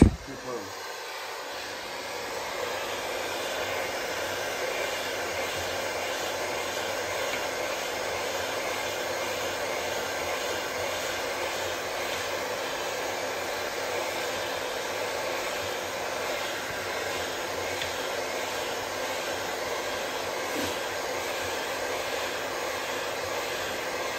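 A heat gun blows a steady, even roaring hiss while heating a part of a Sherco 50cc moped engine in a workshop, loud and continuous for the whole stretch with no break.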